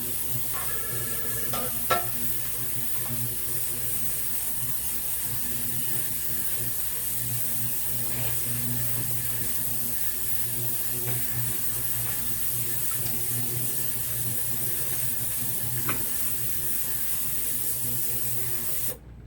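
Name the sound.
ultrasonic cleaner running with ring in solution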